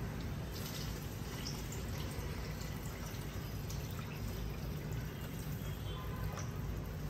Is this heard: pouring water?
yes